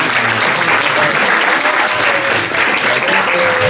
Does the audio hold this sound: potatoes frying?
no